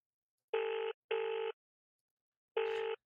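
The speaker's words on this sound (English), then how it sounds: "Noel gives her home phone number, which Mr. Yule punches into the keypad." Three electronic phone tones from a video game keypad and ringing, two in quick succession then one after a pause, clean and isolated against silence.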